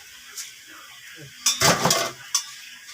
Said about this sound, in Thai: ข้าวเหนียวตากแดดทอดกรอบ